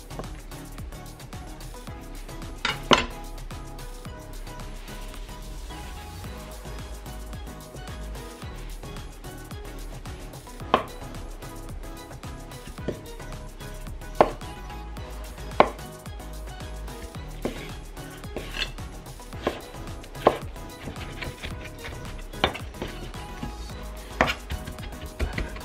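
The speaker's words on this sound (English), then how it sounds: "Slice onion." A knife slices an onion on a cutting board while cooking Japanese nikujaga beef stew: a steady run of crisp, close chops with sharp accents, under a low kitchen hum.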